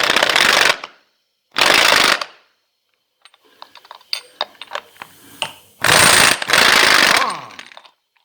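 An impact tool spins off the left-hand-thread clutch nut on a Harley-Davidson primary in three loud, close bursts of rattling hammering, separated by quieter metallic clinks and tool handling.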